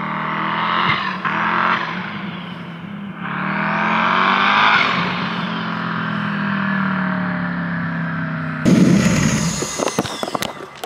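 A twin turbo stick shift Crown Victoria makes a drag racing pass at Twin River Raceway, the engine roaring loud and close as it revs through gear changes before a burst of sharp popping and crackling at the end.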